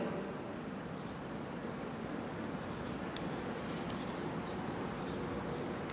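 Chalk or marker scratches continuously across a classroom board in a steady, close rubbing and scraping with faint rhythmic strokes.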